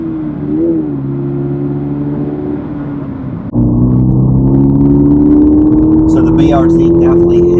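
Subaru BRZ four-cylinder engine pulling hard under full throttle, a steady droning rumble that jumps louder midway and climbs in pitch, with engine and road noise filling the cabin.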